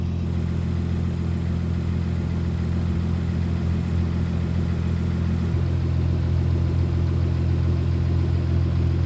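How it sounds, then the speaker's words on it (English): A turbocharged BMW E30 with an M50 engine idles steadily and close, a low, even rumble that drops slightly in pitch partway through, with no talking. "I've had the car idling for a little bit and it's getting kind of warm"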